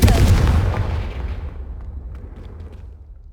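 A Confringo fire spell explodes in the Hogwarts Legacy video game. One loud, close blast hits first, then a long rumbling roar fades away over several seconds. No voices are heard.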